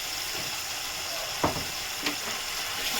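Fish, vetki, being stirred as it fries in mustard sauce with turmeric, salt and sugar: a steady close sizzle with a couple of sharp scrape-like clicks from the spoon, no voices.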